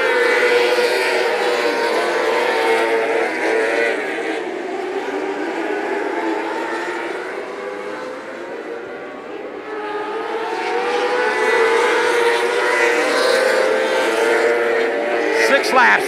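Micro sprint race cars from the POWRi Outlaw Micro Sprint League roar around Macon Speedway, a continuous high engine whine that dips and then swells again as the pack passes, with talk over it.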